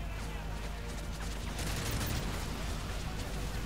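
Explosions and gunfire in the Call of Duty Modern Warfare 3 Siberian diamond mine level, a dense continuous battle din of blasts and shots at steady loudness with no clear single boom.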